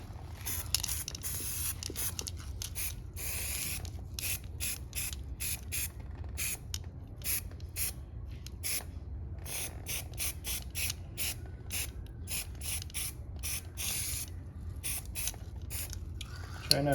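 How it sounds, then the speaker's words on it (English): Yellow spray paint hissing from an aerosol can onto a stencil, quiet repeated short bursts in an irregular rhythm, close to the microphone with brief pauses between sprays. "I guess I'm gonna spray yellow on this one first"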